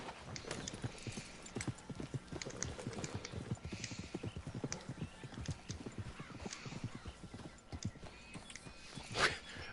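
A horse gallops in a race in the western game Red Dead Redemption 2, rapid clip-clop hoofbeats pounding close and steady, with a brief whinny near the end and a faint voice in the background.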